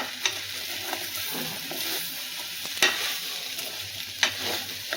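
Okra sautés in hot oil with chili powder and salt, giving a steady close sizzle broken by a few sharp scrapes and clacks of stirring.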